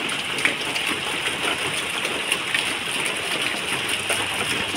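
Heavy rain pouring outside a house beside a flooded, overflowing pond, a steady broad wash of falling water with a faint patter, even and unbroken from start to finish.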